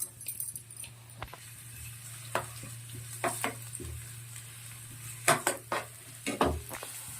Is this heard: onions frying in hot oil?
yes